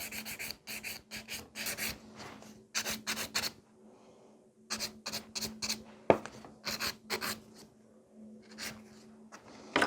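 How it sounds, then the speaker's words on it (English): Nail file rasping across a fingernail while shaping a nail for fruit-themed encapsulated nail art, heard as close, quick bursts of dry scratchy strokes in irregular rhythm, with brief pauses between runs and no talking. "the last step for filing is to go like this, and that will just make the nail to look perfect."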